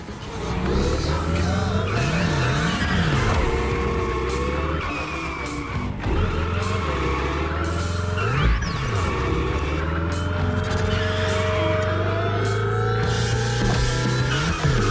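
A car in a gymkhana driving game revs and whines through a wall ride drift, its engine note rising and falling in loud sweeping waves with tyre noise, alongside steady background music.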